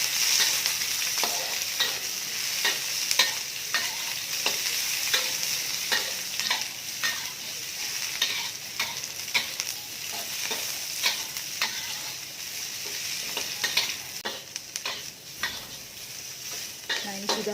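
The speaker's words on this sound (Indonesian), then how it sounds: "Kita tumis sehingga wangi." Garlic, ginger, galangal, chili and lemongrass sautéing in hot oil for a white tom yam fish soup, giving a steady, close sizzle with frequent stirring clicks of a utensil against the pan throughout, and no talking.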